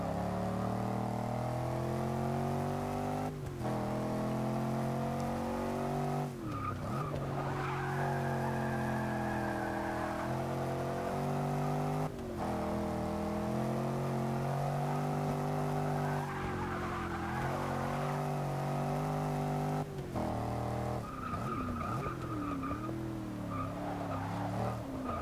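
A 2015 Range Rover Sport SVR in Forza 6 runs its engine hard while the tyres squeal at the limit of grip. The engine tone rises and falls through the gears, and repeated tyre skids break through in several bursts across the run.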